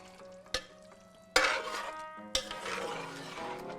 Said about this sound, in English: add them in, stir them in, and then we're ready to serve